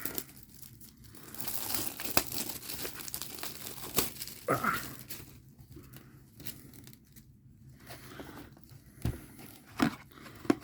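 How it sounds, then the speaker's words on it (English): The plastic seal on a Revised starter deck box is cut along a seam with an X-Acto knife and peeled off close up. It comes as a run of crinkling, crackling tears with a few sharp snaps in between. "And our first incision right along this seam. And let's peel it off."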